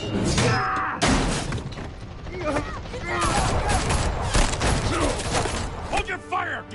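Heavy gunfire in Batman: The Telltale Series, a dense volley of shots with crashing impacts running almost the whole time, loud and close, with voices shouting over it.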